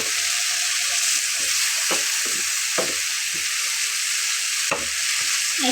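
Ridge gourd paste cooking in a pan, sizzling and bubbling steadily as its released water boils off, with a few sharp scraping stirs of a utensil cutting through the constant hiss.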